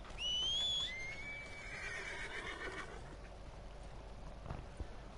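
Horse whinnying in the Red Dead Redemption 2 video game: a loud, rising whinny in the first second, then a softer falling neigh, followed by faint hoof clops and ambient game noise.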